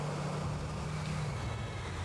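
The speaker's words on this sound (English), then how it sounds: "You didn't even get a decent engine sound for the Toyota Prius" Low, steady engine drone of a Toyota Prius in the video game GTA IV, a constant hum with a faint tonal line that dips near the end, heard without talk.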